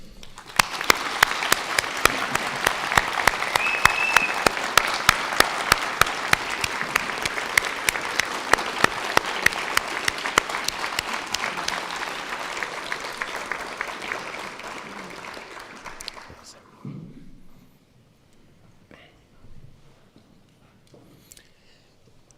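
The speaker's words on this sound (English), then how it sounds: "please give a round of applause" Loud, sustained audience applause in a hall at a university winter graduation ceremony, with distinct claps standing out from the dense crowd, fading out after about sixteen seconds into quiet with faint stray sounds.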